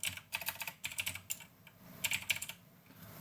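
Bursts of computer keyboard typing as a program directory path is entered, quick clustered keystrokes in three runs with short pauses, close and fairly quiet, no voices.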